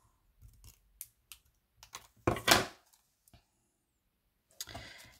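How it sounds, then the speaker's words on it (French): Scissors snip through a paper Easter postcard in a quiet room, a handful of sharp separate cuts with pauses, then a longer crisp rasping cut and another short run near the end. "On va le couper au plus bas à peu près"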